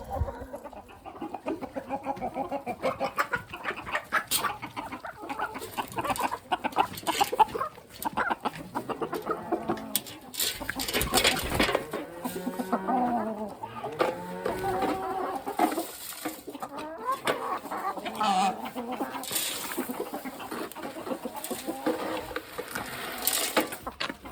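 A large flock of chickens clucks and chatters throughout a farmyard with a barn, with overlapping calls from many birds, some rising into louder squawks, sustained and busy over the whole stretch.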